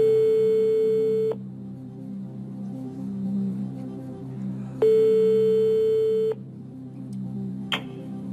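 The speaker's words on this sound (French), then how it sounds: "Appelons Anne-Laure, qui est une collègue à vous" A telephone ringback tone sounds while a TV quiz show calls a contestant's friend: two long, steady electronic tones separated by a silent gap, with faint studio murmur underneath.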